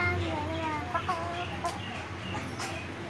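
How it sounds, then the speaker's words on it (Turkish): Chickens and roosters cluck and call at a poultry market, a busy mix of overlapping bird sounds with faint voices in the background throughout. "Aa tavuk, büyük tavuk."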